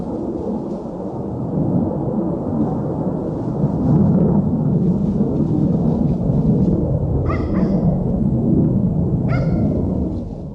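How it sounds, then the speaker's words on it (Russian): Missile flying overhead near a dugout, a loud sustained low roar swelling and holding across the sky, with a couple of faint dog barks late. "Ракета летит."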